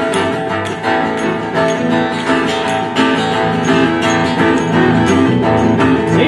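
Folk trio plays a rockabilly rhythm, a steady, dense full-band groove that stays loud and even throughout with no voices.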